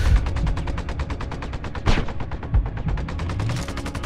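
Rapid automatic gunfire from the Sarajevo level of Sniper Ghost Warrior, a steady stream of loud, closely spaced shots with a couple of heavier booms, no talking.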